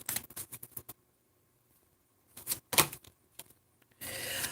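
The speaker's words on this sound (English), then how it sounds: "let's go ahead and pull some tarot cards for you" Tarot cards being drawn and shuffled in a reading: several bursts of soft papery rubbing and flicking separated by quiet gaps, with a longer, steady shuffling rustle at the end.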